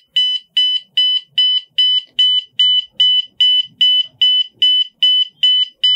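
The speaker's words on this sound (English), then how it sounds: "the alarm is ringing as 2 hours and 2 minutes" An Arduino-driven buzzer alarm clock sounds a steady string of about a dozen sharp, evenly spaced beeps, loud and close with no voices.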